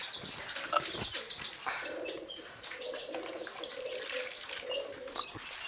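Pigeons in a loft coo in repeated soft, throaty phrases over a steady background hiss, close and moderately loud throughout, with occasional faint chirps.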